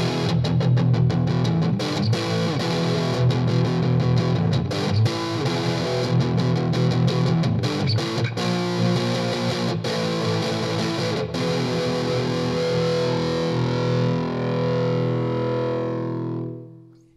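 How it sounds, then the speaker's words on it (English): Heavily distorted electric guitar through a metal overdrive amp channel on a Nux Mighty BT40 modeling amplifier chugs and rings with a thick, saturated tone, playing continuously and loudly before the final chord fades out. "It sounds thick as a metal overdrive should sound."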